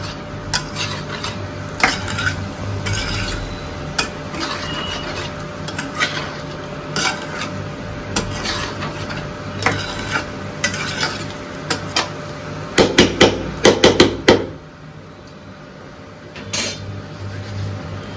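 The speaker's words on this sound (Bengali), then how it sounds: "এটা কিছুক্ষণ এরকম করে নাড়া দেবো সব পুরো, যাতে পুরো মিক্স হয়ে যায় মশলাগুলো।" Potato and pointed gourd with spices being stirred in a sizzling pan, a spatula scraping and knocking against the metal in irregular strokes, ending in a quick flurry of clattering before it falls quiet.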